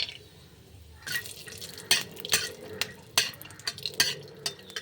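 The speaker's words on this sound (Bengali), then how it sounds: "তেলটা গরম হয়ে গেছে, আমি দুটিখানি বাদাম ভেজে নিচ্ছি" Peanuts frying in hot mustard oil in a kadai, crackling and spattering in irregular close bursts with scraping stirs over a low hiss.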